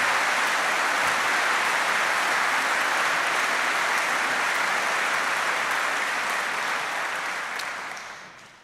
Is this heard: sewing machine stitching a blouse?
no